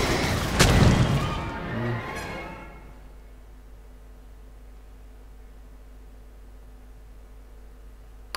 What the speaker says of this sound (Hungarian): Egy robbanás biztos nem elég neki.